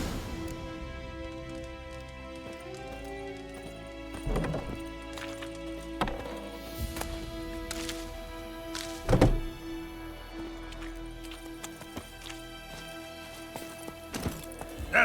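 Roach, the horse in The Witcher 3 video game, moving along with scattered hoof clops and heavy thunks over a hum of ambient game music and tones. A louder hit lands near the middle.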